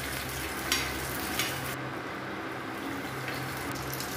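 Green chillies frying and sizzling in a pan while being stirred, a steady close crackle with a couple of soft scrape accents.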